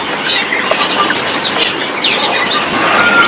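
Caged songbirds at a market chirp and tweet in quick overlapping calls, several birds close by over a constant busy market hiss, no voices.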